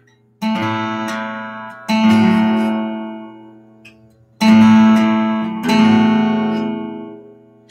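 A guitar plays a two-finger fretted pattern that moves up to the next string, four clear strummed chords in two pairs, each ringing out and decaying, with no talking.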